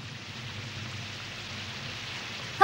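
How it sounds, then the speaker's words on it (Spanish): Heavy, incessant rain in an animated Bible story, a steady broadband hiss of downpour with no voices, ending on a brief louder burst. "Maldita lluvia."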